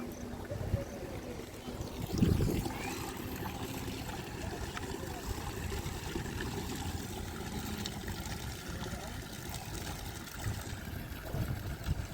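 Water trickles and splashes steadily nearby as bottles and a bucket are filled, a continuous running flow with occasional louder gushes and a few knocks.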